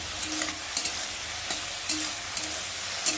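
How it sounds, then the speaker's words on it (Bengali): Boiled new potatoes being mashed in a pan for a home dinner, giving soft, scraping, squelching strokes at an irregular rhythm, close and fairly quiet with no talk. "আলুটা একটু ভালো করে মেরে দিই"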